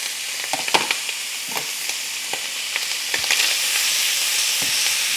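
Peppers and onions go back into a hot pan, with a few sharp taps at first. A sizzle then builds into a steady, close, frying hiss.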